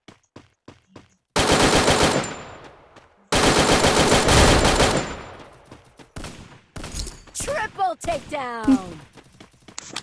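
Rapid bursts of automatic gunfire from a video game, loud and sustained in two long volleys, followed by scattered shots and game effects with speech mixed in.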